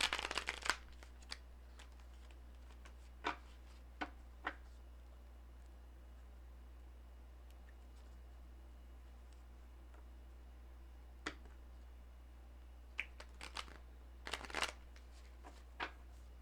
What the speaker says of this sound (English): time to shuffle the cards again